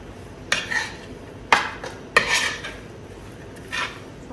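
A spoon stirs kısır salad in a bowl, giving a handful of sharp, close clinks and scrapes spaced about a second apart over a quiet background.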